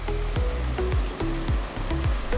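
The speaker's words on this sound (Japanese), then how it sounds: "雨がすごいですけどね、皆さんお気をつけください" Heavy rain pours down as a dense, steady hiss that fills the whole stretch, with short falling chirps recurring about every half second over the downpour.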